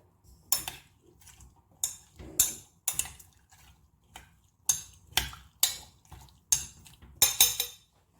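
A metal spoon scrapes and clinks against a pot while stirring hing into sambhar, making repeated sharp clanks in an uneven rhythm with quiet gaps between, close and clear with no talking.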